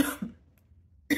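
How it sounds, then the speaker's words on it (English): A single close cough, short and harsh, bursts out between stretches of a voice speaking, followed by near silence before talk resumes. "I had to cough."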